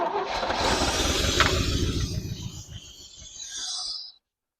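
Engine of a 1977 Chevy C65 oil rig truck cranks and catches, running roughly and loudly for a few seconds before cutting off abruptly into silence.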